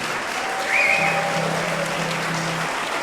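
Radio show studio audience applauding, a steady even patter of many hands clapping at moderate distance, fairly soft, with a faint sustained tone underneath.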